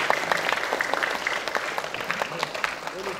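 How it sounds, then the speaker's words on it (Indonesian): A short burst of clapping from a group, quick and scattered, fairly close and moderately loud. "Kasih tepuk tangan dulu ibu."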